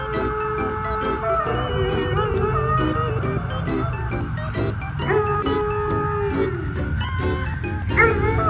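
Several police dogs bark, yip and whine together on a break at an airport, a dense, loud, continuous chorus of overlapping canine voices close by.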